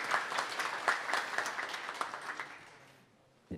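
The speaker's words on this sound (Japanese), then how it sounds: "5人の方に大きな拍手をお願いいたします" Applause from the audience at a PyCon JP 2022 lightning-talk session, fairly faint and distant, with dense clapping that gradually thins and fades out near the end.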